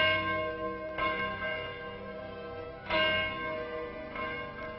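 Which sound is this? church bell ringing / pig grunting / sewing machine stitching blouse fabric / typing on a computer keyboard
church bell ringing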